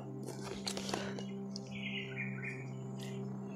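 Birds chirp and squawk in short bursts over a steady low hum, fairly faint, with a few sharp higher calls scattered across the moment.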